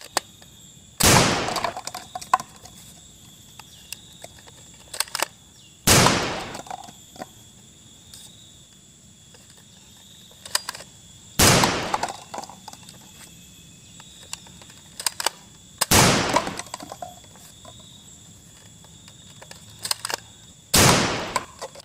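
Toy Blaster Gun Elite firing, five sharp isolated shots spaced about five seconds apart, each followed by a brief rattling tail, close and loud against a quiet background.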